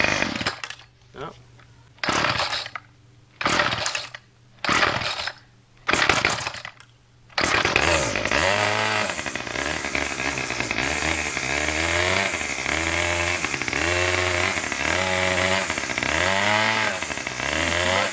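A few sharp pull-start attempts sputter, then a gas string trimmer's small two-stroke engine catches and runs loudly, its pitch rising and falling as the throttle is worked.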